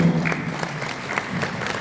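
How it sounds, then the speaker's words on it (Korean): An audience at a morning seminar in a hotel clapping to welcome a guest, steady moderate applause filling the room, with a voice briefly audible at the very start. "박수로 환영합니다"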